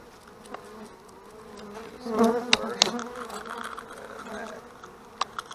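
Honeybees buzz around an opened hive started from a swarm off a main hive, a steady agitated hum with louder swells and sharp nearby bumps and knocks, no voice heard.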